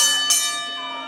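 A wrestling ring bell clangs loudly and close, its bright metallic ring sustaining and slowly fading across the whole moment, with a second strike landing partway through and no voices over it.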